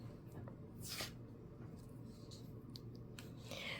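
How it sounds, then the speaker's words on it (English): Scissors snip fabric in a V shape, making a few soft, close, quiet cuts spaced apart over a faint background hiss. "So snip this way and then snip the other side that way."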